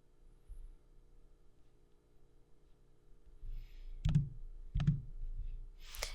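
Computer mouse clicks while picking drop-down menu fields in Power BI Desktop, a few sharp, close, isolated clicks spaced about a second apart over a quiet room hum.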